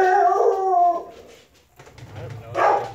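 A voice imitates a dog, letting out a drawn-out howling bark followed by a shorter woof after a brief pause, close and fairly loud.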